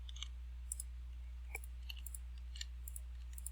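Computer mouse clicks while playing a game, faint sharp clicks scattered irregularly over a quiet low hum, with no talking.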